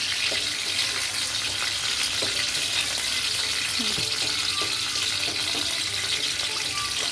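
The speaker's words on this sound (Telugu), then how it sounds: "అల్లం వెల్లుల్లి పేస్ట్ వేగుతుంది, ఒకవైపు పచ్చిమిరపకాయలు వేగుతున్నాయి." Ginger garlic paste and green chillies sizzle steadily in a pan, a close, even frying hiss with faint stirring clicks throughout.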